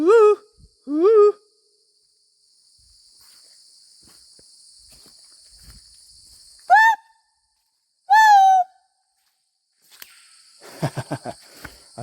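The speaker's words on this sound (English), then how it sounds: "There's my beautiful birds again," Owls hoot in short, clear, falling calls: two close together, then two more after a pause, over a steady high chirring of crickets and faint rustling.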